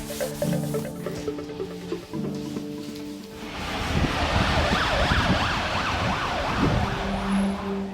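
An ambulance siren arrives for a critically ill patient, first a two-tone horn pattern, then a loud rapid warbling wail over rumbling engine and traffic noise, close and continuous.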